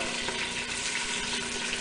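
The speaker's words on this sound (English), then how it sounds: "we put 1/2 to 3/4 cup of water" Water pours steadily into a pressure cooker pot holding browned chicken, a continuous close splashing gush that runs evenly for the whole moment without talk.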